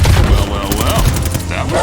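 Gunfire in a World War II battle in the shooter Call of Duty: Vanguard, dense overlapping shots and booms in a loud, close burst, with a voice talking over the fighting.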